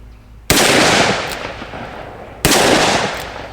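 Two heavy, booming shots from a Smith and Wesson 686+ revolver loaded with magnum rounds, about two seconds apart, each a loud close blast that rolls into a long, echoing decay.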